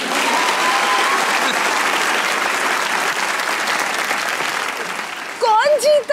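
Sustained applause from a comedy talk show studio audience, loud and even for several seconds, fading slightly before a voice speaks at the end.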